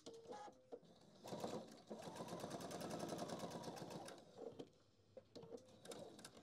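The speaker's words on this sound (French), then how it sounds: "Je vais coudre juste le bas en fait." A sewing machine runs in steady bursts while stitching the bottom seam of a fabric handbag organiser, a close, even mechanical chatter with brief pauses between runs.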